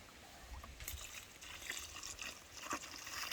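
Water poured by hand onto a freshly planted papaya seedling on a farm, a soft uneven trickle and splash with small drips, fairly faint and close, with no one talking.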